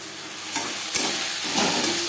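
Spices with salt and turmeric being stirred in a pan for a Bhangor fish curry, a steady scraping and sizzling with a few louder strokes, close up and with no talking.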